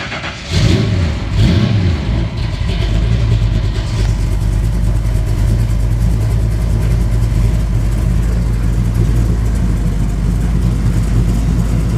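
A Pro Camaro engine cranks and catches, then settles into a loud, steady, lumpy idle close by, its low rumble continuous with no talk over it.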